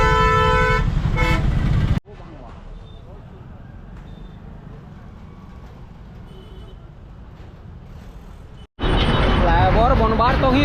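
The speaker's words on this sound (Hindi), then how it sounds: "बहुत जोर ट्रैफिक जाम होते।" Heavy traffic jam on a busy town road: loud horn tones blare at the start, then a steady rumble of idling and crawling vehicles, before a burst of loud overlapping honking and street noise close by at the end.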